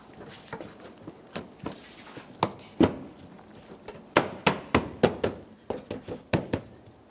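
A plastic front bumper cover on a 2014–2019 Toyota Corolla is tapped into position against the fender, giving a scatter of sharp, close knocks, some single and some in quick runs, over a quiet background.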